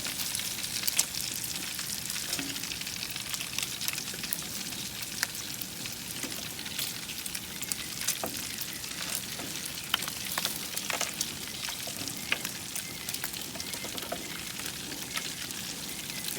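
Maple bacon sizzling on a grill, a constant close crackling hiss with scattered pops, steady and fairly quiet throughout.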